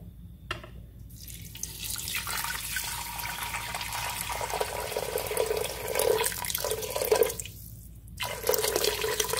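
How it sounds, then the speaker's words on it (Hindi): About two cups of water pour into a cooking pot in a home kitchen, a soft, close splashing and trickling stream that swells unevenly, then pauses briefly before resuming. "इसमें मैं पानी डाल दूंगी 2 कप के करीब।"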